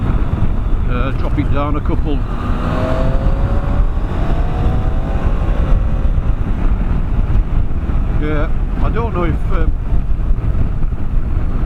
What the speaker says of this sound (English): we're only doing 57, 58 mile an hour, and the wind noise is so intrusive